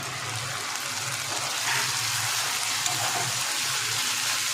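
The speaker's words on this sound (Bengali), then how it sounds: "দেখুন পেঁয়াজগুলো আমার ভালো করে ভেজে নেওয়া হয়ে গেছে, এবার আমি এখানে দিয়ে দেবো আদা রসুন বাটা।" Ginger garlic paste sizzles steadily as it hits fried onions in a hot pan for a Bengali doi katla fish curry, a continuous loud frying hiss with no talking.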